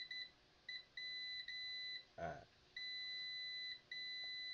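A multimeter gives repeated steady continuity beeps while probing a capacitor on a short-circuited Lenovo PC board, several pulses separated by short gaps, with a brief spoken interjection in the middle.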